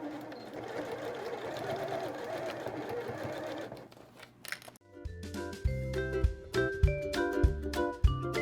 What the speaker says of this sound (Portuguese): E agora aqui eu vou começar a costurar.